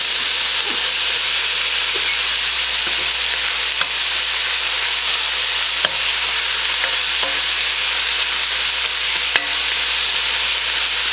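Celery and onions sauté in a pot for homemade bean soup, giving a steady, loud sizzle and hiss throughout with a few faint scrapes of stirring, and no voices.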